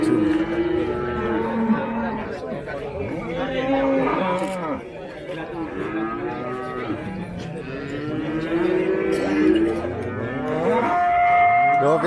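Maroon-red Limousin cattle moo repeatedly and loudly at close range, long drawn-out calls overlapping one another, with people chattering in the background.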